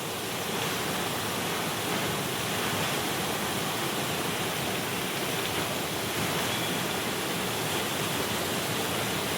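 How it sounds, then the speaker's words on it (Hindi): A fast-flowing waterfall in a Kashmir village roars as a steady, dense, close rush of water, unbroken and loud throughout, with no voices. "और मैं वाटरफॉल दिखाता हूँ, ये है वाटरफॉल, देखिए।"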